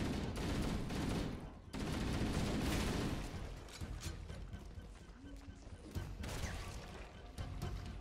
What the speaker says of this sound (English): Did the shotgun just explode?